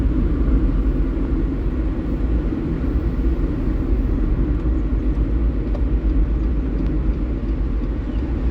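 A car on the road during a driving lesson, a steady low engine-and-road rumble that holds at an even, fairly loud level throughout with no voices.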